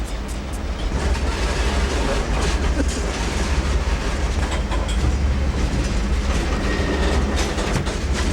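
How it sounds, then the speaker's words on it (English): A train rumbles steadily along the tracks near Skagway, Alaska, with a continuous roar and faint clattering, sustained and fairly loud throughout. "Fun to see a train go across it."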